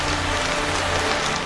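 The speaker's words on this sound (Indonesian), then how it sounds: "Sekarang benar-benar hujan." Heavy rainstorm in a rainforest, a loud, dense roar of rain hammering continuously on foliage and surfaces close by, with no voices.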